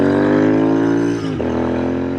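A Royal Enfield Interceptor 650 motorcycle idles and revs with a steady, loud, harmonic engine drone, easing off briefly near the middle before settling back to a continuous rumble.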